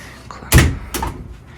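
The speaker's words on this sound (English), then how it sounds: "Close these doors up." Closet doors in a hotel room are pushed shut, giving two distinct knocks about half a second apart, the first louder and fuller, the second lighter, close by with no talking.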